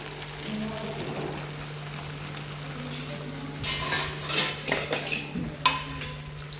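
Hot oil poured into a sabudana and potato vada mixture and stirred with a spoon, with soft scraping and clinking of utensils building toward a cluster of louder mixing sounds over a steady low hum.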